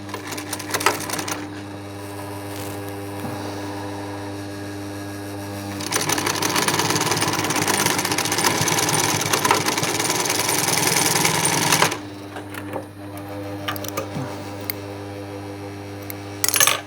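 A sewing machine stitches piping onto a sofa back cushion, running in a loud, steady burst for about six seconds between quieter stretches of clicks and handling noise.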